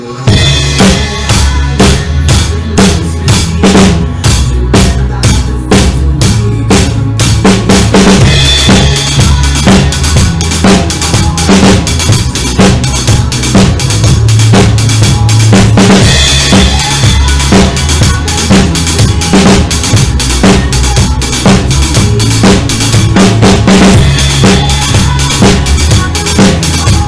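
A full drum kit plays the groove of a song along with the recorded song, loud, steady kick and snare hits with cymbal crashes throughout, sung vocals and backing instruments underneath.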